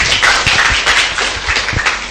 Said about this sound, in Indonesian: Tepuk tangan dulu dong ibu-ibu ya.